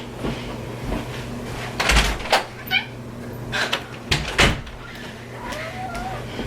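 A cat meows several times at a door, wanting in, with short cries among clunks and rattles of the door opening and closing, fairly close.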